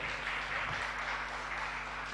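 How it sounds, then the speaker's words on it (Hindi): An audience at a donor-announcement gathering claps hesitantly. The applause is soft, faint and scattered, a steady light patter that holds for a couple of seconds in a quiet hall. "आप लोग थोड़ा संकोच के साथ ताली क्यों बजा रहे हैं?"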